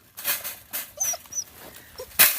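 A dog caught in a trap baited with corn whimpers and yelps in a handful of short, close, high-pitched cries spread over about two seconds.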